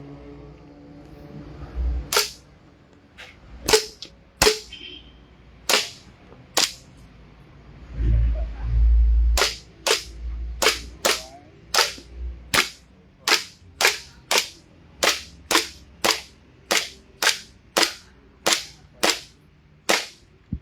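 A CZ Shadow 2 pistol fires at a target on a range, a long run of sharp, loud shots, a few spaced out early, then a fast, evenly paced string of roughly twenty cracks toward the end.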